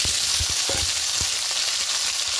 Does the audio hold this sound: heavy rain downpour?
no